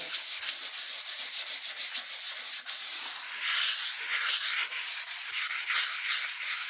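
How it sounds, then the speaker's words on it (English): Sandpaper rubbing in quick back-and-forth strokes over a shellac finish on a wooden guitar body during wet sanding, a close, steady hissy scrape with a brief pause midway, no talking. "I'm just really just trying to spread it and kind of smooth it with that sandpaper as I go"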